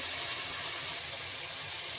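Water is poured from a glass into a pan of potato and aubergine curry, giving a steady, close, hissing gush with no break.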